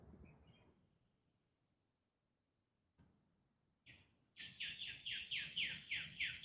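Birds chirping outdoors on a morning: quiet at first with a soft distant call, then a nearby bird bursts into a rapid, loud series of repeated bright chirps.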